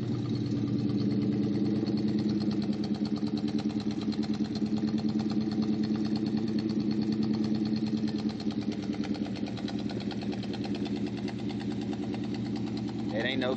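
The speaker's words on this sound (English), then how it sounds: "Got my motherfucking motor running." Motor of a Chevy box truck running steadily, a continuous close mid-pitched engine drone with an even pulsing idle that holds for the whole stretch without revving.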